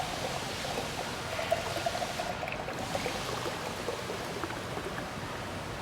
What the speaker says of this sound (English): You just open it and hard pour it.